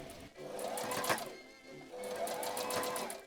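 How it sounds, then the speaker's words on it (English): A domestic sewing machine stitches a sash onto the front panels of a 1920s-style dress in two steady, close bursts with a brief pause between them. "I then machined the sash onto the fronts within the seam allowance for the side seam."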